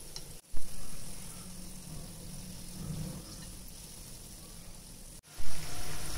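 Vada frying in hot oil gives a steady, dense sizzle and crackle that lasts the whole stretch, with two brief dips and soft knocks. No one talks.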